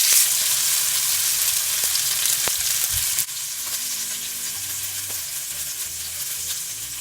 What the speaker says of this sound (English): So now that the oil's hot, put in the salmon.